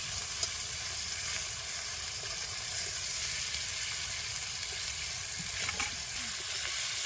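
Garlic and ginger paste fries in a pan for chicken biryani, giving a steady, close broadband sizzle that runs unbroken with a few faint stirring clicks.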